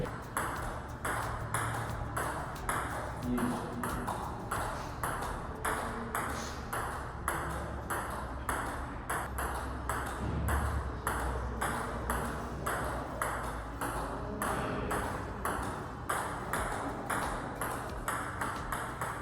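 Table tennis ball struck again and again with forearm strokes during beginner practice, a steady rapid string of crisp pings at even rhythm over a busy hall background.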